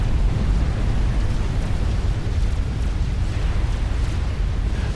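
Artillery battery explosions in the strategy game Supreme Commander Forged Alliance form a loud, continuous rumbling roar of overlapping blasts with no pauses or speech.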